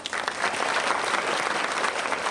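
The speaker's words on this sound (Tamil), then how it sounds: "இதுக்கு நீங்க கைத்தட்டல் கொடுக்கணும்" Audience applause at a Rotary women's day celebration, a dense, steady wash of many hands clapping at close range, sustained throughout without talk.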